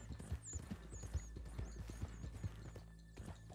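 A horse's hooves clip-clop in an even, steady rhythm as it is ridden through the Great Plains in Red Dead Redemption 2. The hoofbeats sound faint and are joined by soft ambient game sounds.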